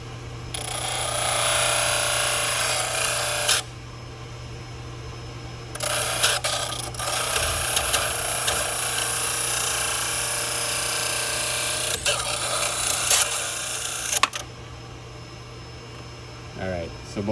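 A rotary wheel grinds and cuts a 3D printed full arch implant prosthesis in loud, sustained bursts with brief pauses, the motor whine dropping between passes.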